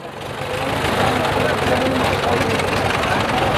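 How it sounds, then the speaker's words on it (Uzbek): A tractor engine rumbles steadily nearby at a kupkari horseback game in Uzbekistan, a loud continuous low drone with mechanical clatter that holds constant throughout. "Haydang, traktorni haydang."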